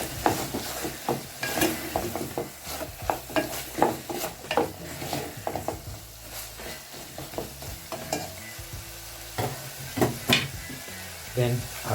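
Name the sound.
capsicum frying and stirred in pan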